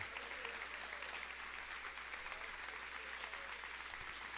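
Sustained applause from a church congregation during worship, dense and even clapping from many hands that holds steady from start to finish with no pauses.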